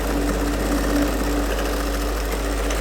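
A sewing machine stitching fabric for a women's suit, a continuous even mechanical hum with a faint rhythmic tick, steady and close throughout with no talking.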